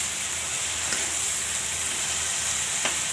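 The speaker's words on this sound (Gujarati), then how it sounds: "હવે આપણે આને તેલમાં ચડવા દેવાના છે" Bitter gourd and onion frying in oil with turmeric and salt give a steady, even sizzle throughout, with a couple of faint stirring clicks and no talk.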